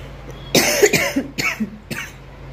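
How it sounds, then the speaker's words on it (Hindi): A few sharp coughs in quick succession, close and fairly loud, with brief pauses between bursts and no talking. "और थोड़ी सी खांसी भी हो रही है"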